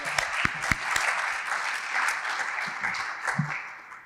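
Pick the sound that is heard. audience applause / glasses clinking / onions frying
audience applause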